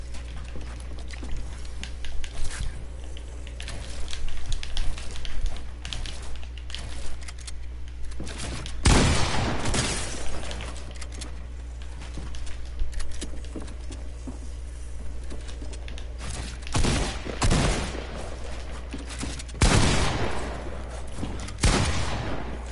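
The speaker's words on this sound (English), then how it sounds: "Alright, now we're shooting." Video game gunfire cracks out in several loud bursts and single shots over a constant low electronic hum, spaced irregularly through the stretch with quieter gaps between.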